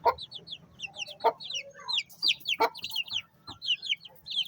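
Desi chickens kept at home cluck and chatter in a busy, close series of short calls, with sharp squawks and a brief crow-like note, alone without speech.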